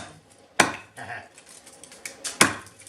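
A hatchet splits kindling on a wooden chopping block, giving two sharp, fairly close cracking strikes with lighter knocks and clatter between them.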